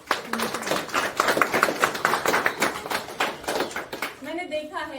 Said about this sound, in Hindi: मैं चाहती हूँ कि इस पर एक बार जोरदार तालियां।